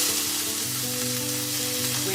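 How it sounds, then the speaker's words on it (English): Onion and chopped stalks sizzle steadily in a hot pan with olive oil and salt, a continuous crackling hiss with a low hum beneath it, close and even. "so into a hot frying pan"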